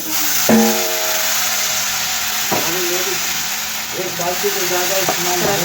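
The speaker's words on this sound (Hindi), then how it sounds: "अब हम फ्लेम कर लेंगे लो और बैटर को दोबारा से अच्छी तरह मिक्स करके डाल देंगे।" Beetroot pakora batter poured into a hot greased pan over a flame, giving a steady, loud hiss with a few clinks of utensil against metal, while a person talks.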